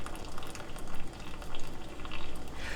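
Boiled zucchini noodles are drained, giving a loud, continuous rushing splash of hot water pouring out with no voices.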